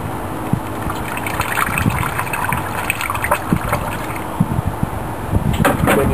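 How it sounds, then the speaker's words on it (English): Antifreeze is poured from a cup into a funnel set in a car radiator during a radiator flush, giving a steady, close liquid trickle and gurgle that runs for several seconds without talk. "You pour it in your funnel."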